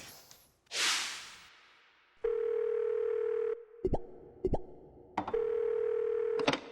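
Steady telephone dial tone heard while a call is placed for a news fact-check about a hospital in Cheongdo, North Gyeongsang; the tone breaks off briefly with a few clicks, then resumes, after a short whoosh at the start.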